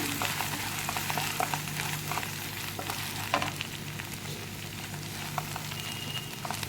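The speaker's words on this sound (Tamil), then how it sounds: "வெண்டைக்காய் வத்தல் கொஞ்சம் பொரிஞ்சு வரட்டும்" Dried okra fries in oil in a pan with onion, giving a steady, soft sizzle and faint stirring that goes on evenly throughout.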